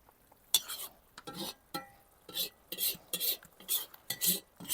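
A utensil scrapes and scoops fried borscht dressing with paste from a pan onto a plate in a series of short, uneven strokes, close and crisp with brief pauses between them.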